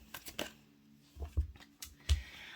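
Tarot cards are shuffled in a few quick, soft riffling bursts, close and quiet, with short pauses between.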